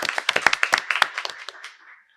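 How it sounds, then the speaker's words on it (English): A small group at a physical therapy board meeting gives a brief round of applause, a quick cluster of close, crisp claps that thins out and stops after about two seconds. "I'll give everybody a round of applause."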